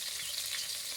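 Chopped onions and tomato sizzle steadily in hot oil in a pan, cooking for a snakehead (shol) fish curry; a dense, continuous hiss at close range with no talk.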